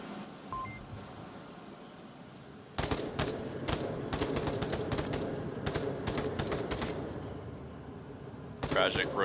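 Rapid bursts of gunfire in the VR game Onward crackle in quick volleys after a quiet opening, sharp repeated shots with a few beeps, a voice talking underneath.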